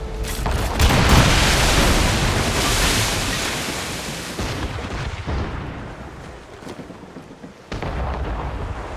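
Ship cannons firing in a naval battle at sea in Assassin's Creed Rogue, heavy booming volleys blended with roaring surf and wind, loudest early on, then fading before another burst near the end.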